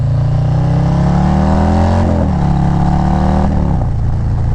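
A Harley-Davidson Low Rider motorcycle engine revs loudly up close, its pitch climbing steadily, then dropping and settling back to a steady idle.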